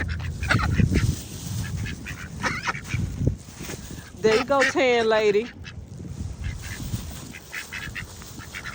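Ducks at a windy lake squabble over bread being thrown to them, one bird giving a loud harsh run of honking quacks in the middle while someone talks to them before and after.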